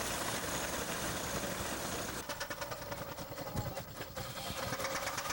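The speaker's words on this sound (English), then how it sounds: "This mobile steam engine is being used to saw lumber." A John Deere mobile steam engine running steadily to power a lumber saw, a loud continuous mechanical chug with rapid rhythmic beats in the second half, alone without talk.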